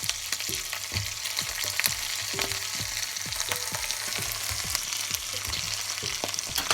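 Eggplant fries in a pan for a coconut-milk vegetable stew, giving a steady close sizzle with repeated clicks and pops of stirring.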